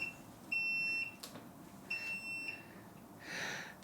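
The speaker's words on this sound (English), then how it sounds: "That beeping was to tell me we've reached a boil." A home brewing boiler gives short electronic beeps when the wort reaches a boil: two paired tonal beeps about a second apart, fairly quiet over low background hiss.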